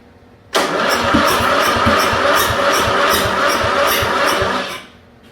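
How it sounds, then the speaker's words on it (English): A 1974 Dynastar lawn tractor engine cranks for about four seconds in a steady rhythmic churn, with sharp pops coughing back through the carburetor, loud and close, then stops; no voices. "She's kind of popping back through the carburetor on this thing."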